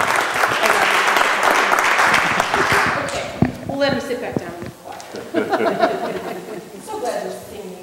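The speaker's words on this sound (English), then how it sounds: "shall we clap for him?" A church congregation bursts into loud, dense applause for about three seconds, then the clapping thins out into scattered chatter, chuckles and voices close by.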